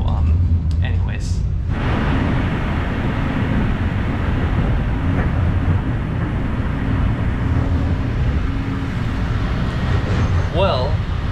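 Steady low rumble and broadband rolling noise fill the cabin of a passenger train travelling from Bratislava to Žilina, continuous throughout, with a brief voice near the end.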